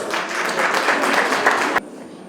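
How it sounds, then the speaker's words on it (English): An awards event audience applauds a poet being introduced, with dense, even clapping that cuts off abruptly near the end, leaving quiet room tone. "A round of applause"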